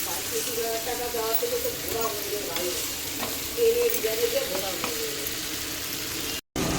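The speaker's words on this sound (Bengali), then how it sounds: "এই যে মাংস বসিয়ে দিলাম" Chicken pieces set into hot oil sizzle loudly and steadily, a dense close frying hiss with occasional stirring clinks and faint background murmur throughout.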